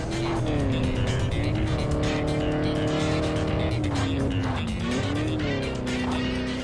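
In the racing video game Ford Racing 2, a race car engine roars loud and steady, its pitch rising and falling through gear changes, with tire squeal and skidding through corners, continuous and close throughout.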